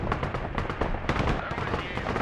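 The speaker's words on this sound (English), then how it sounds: "Machine gun going to help finish things off." Machine gun fire in the real-time strategy game Broken Arrow, with Russian infantry in combat: a dense, continuous rattle of rapid shots with sharper cracks mixed in, loud and close throughout, with speech sounds also present.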